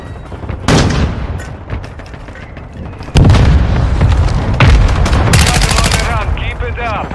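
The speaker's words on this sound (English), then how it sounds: "Friendly mortar strike inbound." Mortar strike explosions in Call of Duty: Modern Warfare II multiplayer boom loudly over dense gunfire, with heavy blasts landing around three seconds in and again near four and a half seconds, amid ongoing game combat noise.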